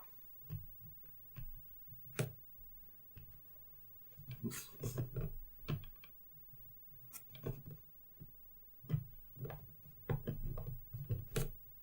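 Irregular bursts of clicking keys from a computer keyboard, tapped in quick clusters with short pauses between them, close by and fairly quiet.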